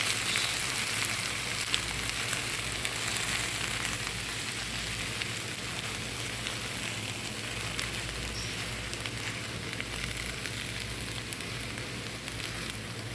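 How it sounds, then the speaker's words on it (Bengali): Boiled ash gourd with egg and onion sizzles steadily in hot oil in a pan, a continuous close, even frying crackle with no talking. "এখন ডিমের সাথে চালকুন্দাটা ভালো করে আমি একদম ভেজে নিব"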